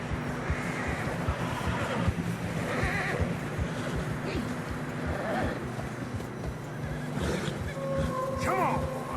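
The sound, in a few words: horses neighing and walking in snow, Red Dead Redemption 2 video game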